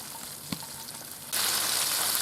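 Curry-seasoned chicken pieces sizzle inside a Cosori air fryer, a quiet hiss that jumps to a louder, steady crackle partway through, heard up close with no talking.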